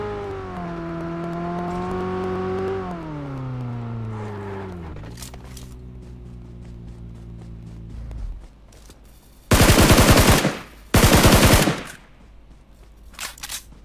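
Continuous gunfire in the video game Shopperr, two loud dense machine-gun bursts close together, following a falling engine-like drone and scattered clicks.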